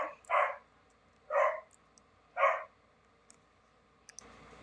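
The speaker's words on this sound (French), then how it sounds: "Désolé, c'est mon chien qui aboie." A dog barks three times at an even pace, the sharp yelps moderately loud against a quiet background, followed by a few faint clicks.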